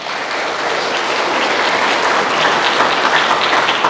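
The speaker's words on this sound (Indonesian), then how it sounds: "Alani tepuk tangan matu kita saluhuna." A church congregation gives loud, sustained applause, a thick, even roar of many hands clapping close and full throughout, with no voices above it.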